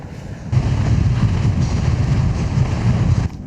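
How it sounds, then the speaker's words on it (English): A cold wind blows through an Alpine tunnel while a cyclist rides, making a loud, low, steady rush of roaring wind noise that starts abruptly and cuts off near the end. "There's a wind blowing straight through it."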